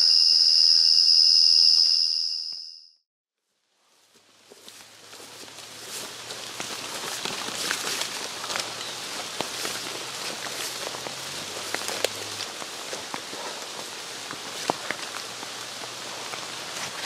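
Steady rain patters on leaves and ground in a forest during a wet afternoon, with insects chirping, following a brief high tone that cuts out before the rain sound.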